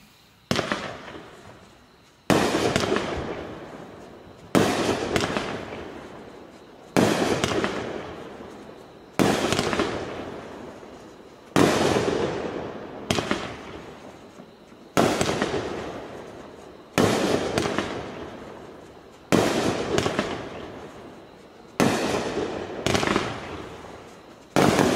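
A 500-gram, 70-shot firework cake called Vertical Reality fires a steady run of booming bursts, each followed by crackling decay, repeating about every two seconds, loud and fairly close outdoors.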